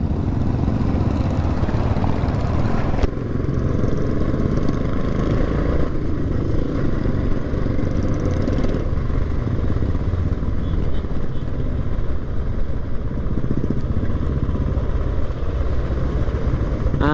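Motorcycles on a charity ride give a continuous, rough engine drone that stays loud and steady with slight shifts in pitch, with no clear talking.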